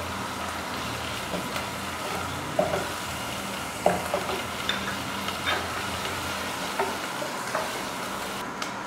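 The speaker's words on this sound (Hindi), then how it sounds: "अदरक लहसुन अच्छी तरह से भून चुका है" Ginger garlic paste, a tablespoon each, fries in a pan with a steady crackling sizzle. Occasional scraping clicks come from stirring, and there is no talk over it.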